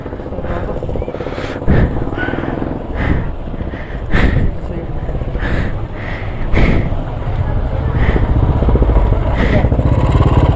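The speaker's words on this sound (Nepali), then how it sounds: "पहिलोचोटि बाइक खेलाइ खतरा भयो." Motorcycle being ridden on a rough, blocked road, its engine running loud and close throughout, with a few sharp knocks and bumps and someone talking over it.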